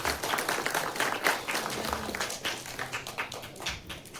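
Audience applause for an actress at a Tamil film audio launch: a dense patter of clapping from a crowd, moderately loud and steady, slowly thinning toward the end.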